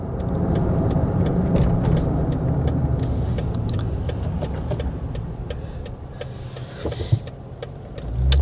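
Cabin of a 2022 Toyota Tundra Capstone pickup on the move, a steady loud road and engine rumble with repeated small clicks and rattles throughout and a couple of sharper knocks near the end.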